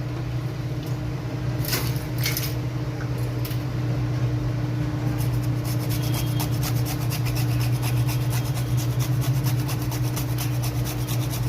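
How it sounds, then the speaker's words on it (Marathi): Nutmeg being grated by hand, a continuous scraping rasp with quick repeated strokes over a steady background hum. "वेलची पावडर आणि जायफळ किसून टाकणार आहे"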